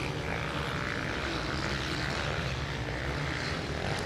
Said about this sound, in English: fires that Yamaha down into the trial section